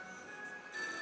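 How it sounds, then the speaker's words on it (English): A phone box is struck in the Harry Potter and the Chamber of Secrets PS1 video game, answered by a brief electronic ringing tone that swells toward the end, moderately loud with no talk. "You hit the phone box!"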